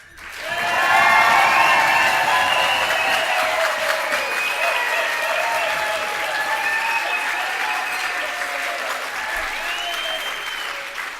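A gala dinner audience bursts into loud, sustained applause mixed with cheers and whistles that carries on steadily for several seconds.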